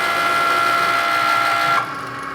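A Cricut Maker cutting corrugated material gives off a steady, loud mechanical whir with a bright tonal hum, then drops abruptly to a quieter idle near the end.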